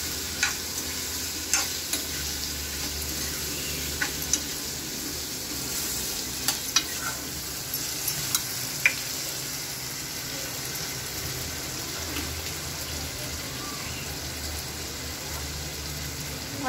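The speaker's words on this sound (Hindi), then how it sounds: "और हमारी सब्जी भुन रही है" Vegetable curry with tomato, crushed red chilli and masala fries in a pan, giving a continuous sizzle with occasional clinks and scrapes of a stirring spoon.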